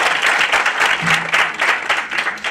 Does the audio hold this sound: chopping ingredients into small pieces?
no